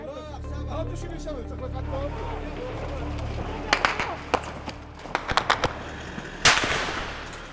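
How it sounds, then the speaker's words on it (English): Gunfire in a conflict zone: sharp bursts of several rapid shots crack out over a steady rumble of traffic and background noise, then one louder bang, with voices talking throughout. "There's a lot of firing going on."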